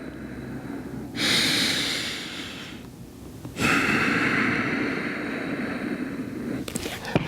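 Deep, audible breaths during a lower-back stretch, with two long drawn-in or exhaled breaths and a sharp intake at the start of the second, close and loud, ending in a faint rustle.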